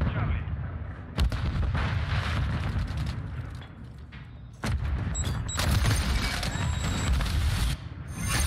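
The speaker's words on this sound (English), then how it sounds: "Did I stick that guy with that grenade?" Loud, dense Call of Duty: Modern Warfare III combat, with heavy booming blasts and gunfire in a continuous rumbling din and a sharp explosive hit standing out in the middle.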